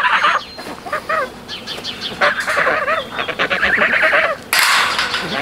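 A flock of geese honks loudly and close by, bursts of overlapping honks and clucking calls as the birds are let out onto grass, with no talking.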